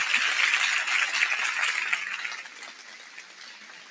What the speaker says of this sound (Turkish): Kısa alkışlamayın.